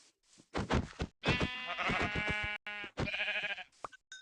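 A Minecraft sheep bleats several times in a row, loud and close, with a clean synthetic game sound effect quality.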